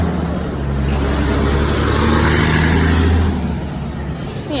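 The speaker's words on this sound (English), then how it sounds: "I'm trying to do this video and this truck just won't let me be great" A truck outside rumbles past in a loud, deep, sustained drone that swells and then fades as it passes.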